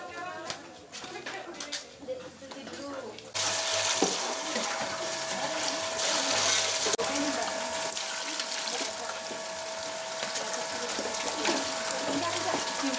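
Peeled cassava pieces are rinsed under a running tap, a steady hiss of flowing water starting after a few seconds of clinking handling sounds, with a voice talking over it.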